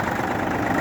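An ISEKI TU205 tractor with a three-cylinder diesel engine idles steadily in a loud, close, even rumble, with no talking.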